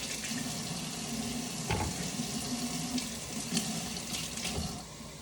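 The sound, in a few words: rinsing dirty carrots under running water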